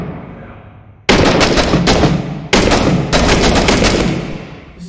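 Loud, close gunfire from the video game Six Days in Fallujah: a quiet stretch, then sustained bursts of rapid automatic fire with short gaps between volleys.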